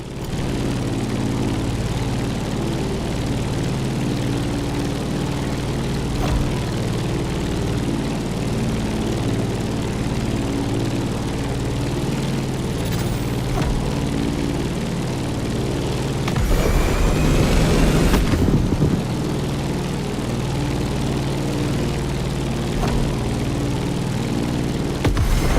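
A propeller aircraft flies over a Hawaiian island in The Crew Motorfest, its engine giving a steady, loud droning hum that holds throughout with a brief swell of rushing noise midway.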